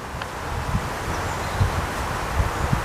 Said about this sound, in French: le vent vient juste de m'ouvrir une page de mon carnet